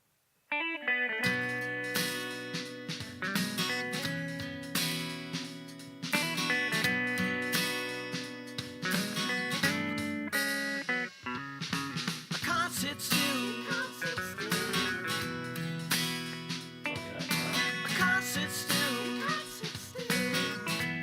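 A track plays continuously and loudly, with dense layered instruments and a steady beat after a brief quiet start.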